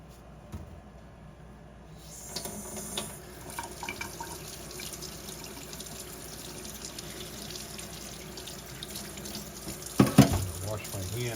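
Hands are washed under a running tap to get grease off the fingers in a workshop, a steady moderate stream of water that swells after a couple of seconds, with louder splashing near the end.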